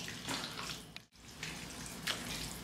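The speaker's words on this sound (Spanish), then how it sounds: "Aquí voy a batir muy bien hasta que no le quede ningún grumito aquí en la masa." Masa dough is whisked until smooth, a continuous wet swishing and churning with one brief pause partway through, close and fairly quiet.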